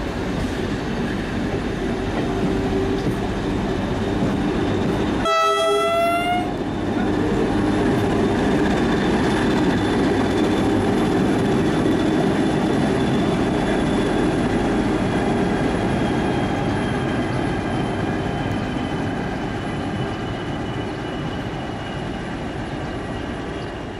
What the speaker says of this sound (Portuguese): Vão ouvir a buzina dela cada vez que ela se aproxima